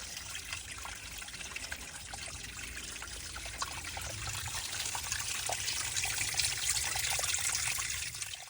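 Spring water trickling steadily out of the ground among big rocks beside a trail, a continuous close babbling flow with no voices.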